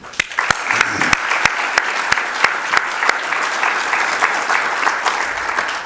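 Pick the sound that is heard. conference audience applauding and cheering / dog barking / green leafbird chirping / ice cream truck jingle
conference audience applauding and cheering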